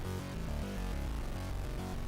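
Layered synthesizer notes stack into a thick, slightly detuned sustained sound, a low part under higher voices, shifting pitch in a steady pattern with no talking.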